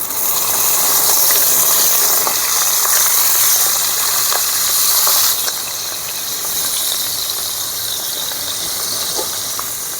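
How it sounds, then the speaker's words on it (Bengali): Mourala fish frying in hot oil give off a steady, loud hissing sizzle that continues for the whole stretch, easing slightly partway through, with faint crackles and no voices. "বাকিগুলোও এভাবে আমি ভেজে নেবো"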